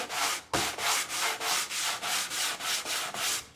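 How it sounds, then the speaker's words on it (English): Coarse 60 grit sandpaper rubs back and forth over wood-burned pine letters on a porch sign, about a dozen rhythmic, loud, close scraping strokes after one sharp initial scrape, with no talk. "I'm gonna take our 60 grit sandpaper"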